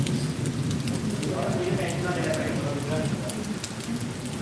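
Steady rain falls and patters on surfaces, a dense continuous hiss throughout, with a person talking over it.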